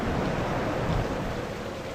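Thunderstorm in the video game Novus Inceptio, a dense, steady roar of rain and rumbling thunder filling the space evenly and continuously, with no voices.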